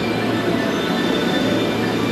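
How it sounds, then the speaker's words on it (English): Inside a packed train in Osaka, Japan: a steady, dense rumble of the moving carriage with wheel and rail noise, close and continuous, no clear voices. "Our train is super packed."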